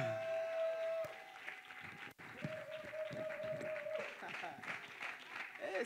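A church congregation applauds loudly and steadily to welcome a sister, with a sustained tone and voices under the clapping.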